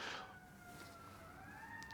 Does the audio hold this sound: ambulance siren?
yes